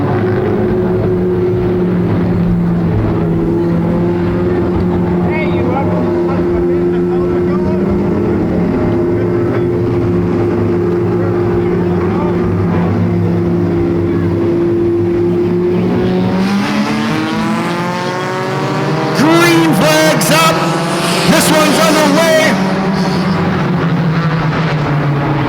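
Bone Stock race cars roar around Sunset Speedway in a feature race, a loud continuous engine drone from a pack of cars that swells sharply as they pass close by near the end, with brief tire squeal.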